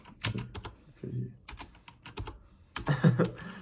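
Keyboard typing in a casual indoor setting, with a burst of quick key clicks and scattered single taps as a voice talks softly in the background.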